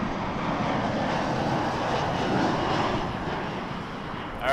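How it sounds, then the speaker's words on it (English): An EgyptAir Boeing 777-300ER from Cairo lands at Toronto Pearson Airport, a steady broadband jet roar holding at an even loudness throughout, with no voices. "ready for EgyptAir 995 from Cairo, 777-300ER. Coming in right now."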